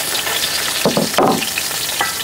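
Fish frying in a pan of hot oil, a steady close sizzle with stirring and a few bursts of crackling, heard alone without talk.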